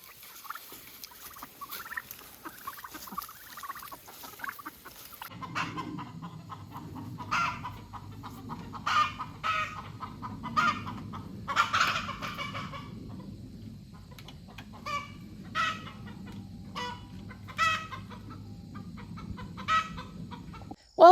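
Free-range chickens and turkeys on a farm cluck and gobble in repeated irregular calls, moderately near over a low steady background hum, with no talking.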